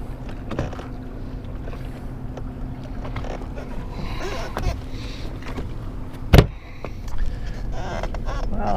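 A big boat passes on a lake during fall crappie fishing, with a broad low rumble and wash of water, a sharp knock partway through, then the wake swelling louder toward the end.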